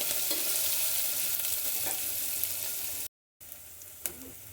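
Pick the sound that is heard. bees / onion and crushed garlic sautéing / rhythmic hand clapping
onion and crushed garlic sautéing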